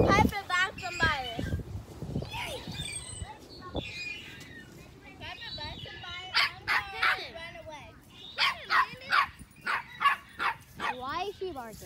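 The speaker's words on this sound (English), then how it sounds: "Why is she barking?" A small dog yaps repeatedly in quick bursts close by, with people talking over and between the barks.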